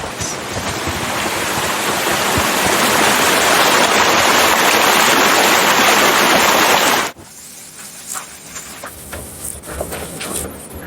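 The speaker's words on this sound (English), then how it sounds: "So I went to water dams and recorded them in different distances." Loud, steady roar of water rushing at a dam that cuts off abruptly, leaving quieter ambient noise with faint clicks.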